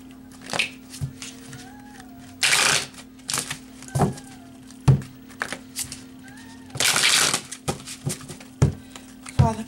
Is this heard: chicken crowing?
no